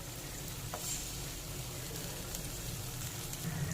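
Whipped sour yogurt poured into hot spiced oil in a pan for a vegetarian pointed gourd curry, producing a steady, moderate sizzle with faint bubbling that continues evenly.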